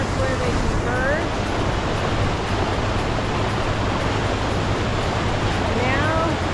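Loon Creek flowing through the Frank Church–River of No Return Wilderness, a steady, full rushing of water that holds even throughout, with faint bird chirps near the start and end.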